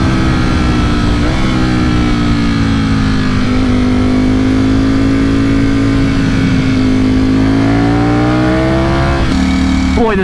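A loud Ducati RS660 motorcycle engine drones steadily close by, its pitch shifting slightly before revving up near the end.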